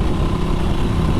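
A cheap retro motorbike's twin-cylinder engine runs steadily close by, a continuous low rumble with no pauses and no voices.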